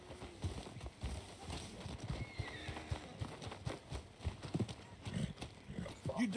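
Horse hooves clip-clop at a steady walking rhythm in the Red Dead Redemption 2 video game, with a whinny and soft ambient game sounds, moderately close and fairly quiet throughout.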